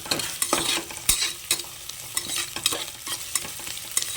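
Chopped onions fry and sizzle in a pan for boti curry, with steady crackling broken by stirring scrapes and taps of a spoon against the pan, close and moderately loud, with no one talking.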